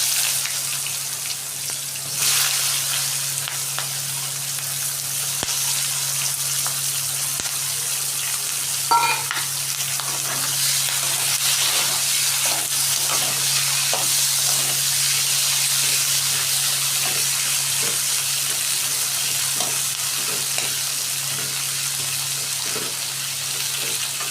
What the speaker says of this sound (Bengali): এখানে পেঁয়াজটা লাল লাল করে ভাজা হয়ে গেছে।